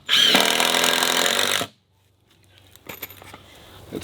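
A Ryobi 18-volt impact driver drives a screw in one loud, close burst of rapid hammering that stops abruptly, followed by quieter handling clatter.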